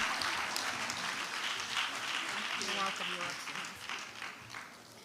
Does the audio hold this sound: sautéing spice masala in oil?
no